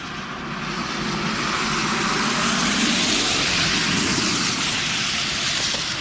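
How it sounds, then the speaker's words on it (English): Ryanair airliner pushing back at Manchester Airport, a steady broadband engine roar heard from a distance, rising slightly at the start and then holding even and continuous throughout with no talk. "We've got a Ryanair and it's pushing back."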